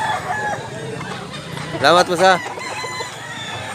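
A rooster at a chicken farm in Mantalungon, Cebu lets out one loud, close crow in the middle, with other fowl clucking around it and someone speaking briefly.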